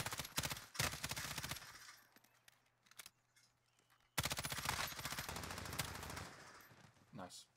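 Rapid automatic gunfire from Call of Duty Warzone rattles in dense bursts, close and loud, with a short lull in the middle before another long sustained volley.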